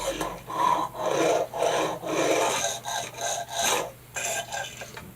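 Nollie fingerboard wheels roll with a steady rasping rub in repeated strokes, each pass close and fairly loud with short gaps between, no talking.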